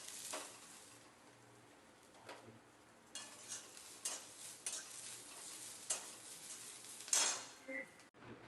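Garlic cloves go into onions browning in a pan and are stirred. Quiet scraping strokes and faint clinks come over a soft, steady sizzle.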